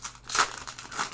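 A Magic: the Gathering Ixalan booster pack is torn open with a short, crinkly burst of foil wrapper ripping and crumpling. It is close and fairly quiet, with no talking.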